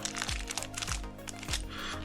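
Plastic packet from an FPV drone multitool kit being handled, soft crinkling and crackling close by, continuous and fairly quiet with a few sharper crunches.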